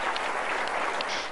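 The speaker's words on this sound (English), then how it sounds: "Crowds at the Johns Hopkins University Applied Physics Lab erupt into cheers after learning a U.S. spacecraft successfully passed through the solar system of Pluto" A crowd at the Johns Hopkins University Applied Physics Lab claps and cheers, a brief, continuous wash of applause with a few higher cheering voices poking through.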